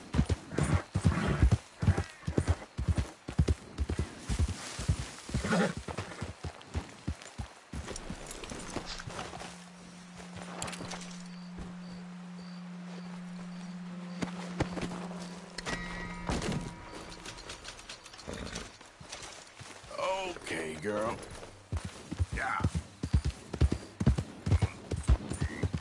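Horse hooves in the game Red Dead Redemption, a loud rhythmic clip-clop of riding that fades to a steady hum in the middle before the galloping beat returns strongly at the end.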